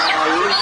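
A chicken clucking up close, one loud, short, throaty cluck with a rising and falling pitch.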